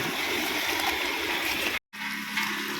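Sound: flood water flowing

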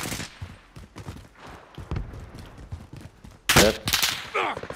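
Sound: gunfire in Call of Duty Modern Warfare video game

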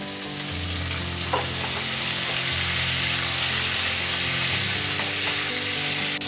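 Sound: amla (Indian gooseberry) frying in pan with salt and turmeric

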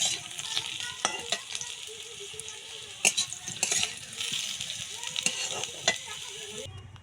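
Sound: potatoes frying in oil

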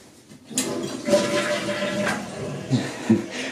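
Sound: toilet flushing

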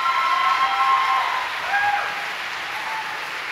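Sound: audience applause for armed services at a school concert

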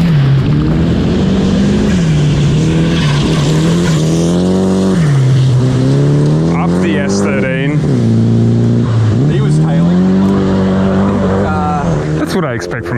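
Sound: rally cars racing at Gippsland Rally

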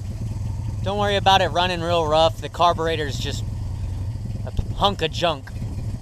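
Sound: Toyota 22R pickup engine running rough, bad carburetor

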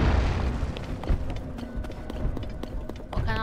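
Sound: rocks rolling, from the video game The Legend of Zelda: Tears of the Kingdom

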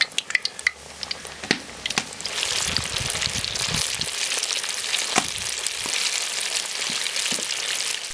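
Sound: chicken wings deep-frying in oil in a kazan

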